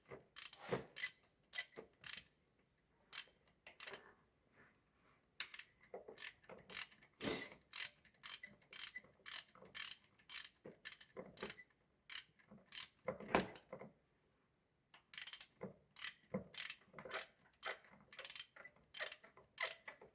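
A ratchet wrench clicks in repeated bursts while bolts are turned on a Duramax LBZ diesel engine, with close, crisp ratcheting strokes in irregular rhythmic runs separated by brief pauses.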